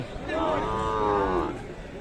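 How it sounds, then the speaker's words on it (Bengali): Sahiwal bull calves at a cattle market let out one long, loud, close moo that swells and fades over about a second, with faint market murmur in the background. "শাহিয়ার জাতের ষাঁড় বাচ্চাগুলি কেমন ধরে বেচা কিনা"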